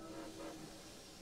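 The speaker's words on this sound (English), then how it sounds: "It's just a train." Train passing in the video game Yokai Watch 2, a brief rumbling rush with a faint whistle-like tone early on, quiet and steady with no talking.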